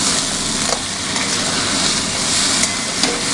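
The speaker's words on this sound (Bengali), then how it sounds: "এবার এর ভেতর আমরা মুড়োগুলো দিয়ে দিচ্ছি।" Fish heads sizzle and fry in a hot pan of oil for dal, a steady bright crackling hiss with occasional sharper pops, close and continuous.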